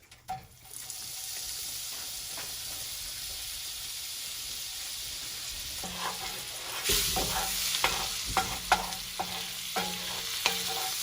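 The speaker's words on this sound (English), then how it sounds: "our butter's melting with our pieces of the steak there" Unsalted butter melting and sizzling around pieces of steak in a pan for gravy, a steady frying hiss that swells louder partway through, with occasional stirring clinks and scrapes; no talking.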